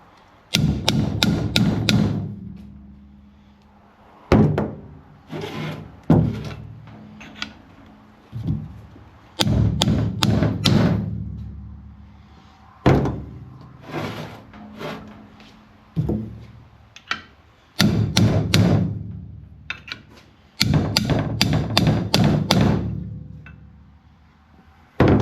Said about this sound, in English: we'll use a punch, a small sledge,